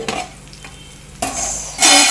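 A spoon scraping and stirring broad bean and tomato curry in a cooking pan, with a quiet sizzle and a few louder scrapes toward the end, close up and with no voices.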